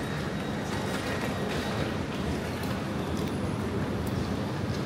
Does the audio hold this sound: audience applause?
no